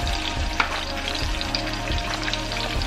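Red snapper frying in oil over a flame set between medium and low, giving a close, steady crackling sizzle with small pops and bubbling and no voices.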